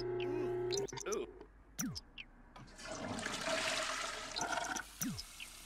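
In The Sims 4 video game, a toilet flushes with a loud rushing swirl of water lasting a couple of seconds, set among game sound effects and a brief voice.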